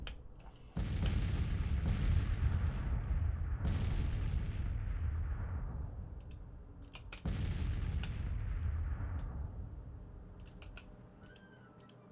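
Heavy artillery booms in the Union Campaign of AOM during the Battle of Fulton and Kernstown: three loud blasts, each trailing into a long rumbling decay, with faint clicks scattered throughout.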